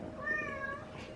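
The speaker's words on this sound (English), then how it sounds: "Sorry, excuse the cat, Capricorn." A cat meows indoors, one drawn-out, fairly loud call with a wavering tone, close by and alone without talk.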